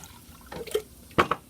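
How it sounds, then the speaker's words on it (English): Small splash of water poured into a mason jar holding dye for yarn dyeing, brief gurgling bursts and a couple of sharp drip-like splashes, close and fairly quiet. "I'll put a bit of water in there"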